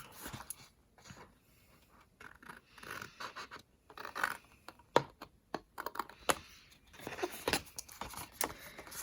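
Scissors snipping through cardstock flaps at a slight angle for a tropical candy box, a run of close, crisp scratchy cuts with short pauses between them and no talking.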